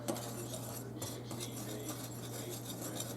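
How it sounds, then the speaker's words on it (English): A whisk stirs flour, baking soda, baking powder and salt in a bowl for a one-bowl vanilla cake. It makes a quick, continuous scraping and light clinking, close up, over a steady background hum, with no speech. "So we're going to whisk all these together just to get them all incorporated."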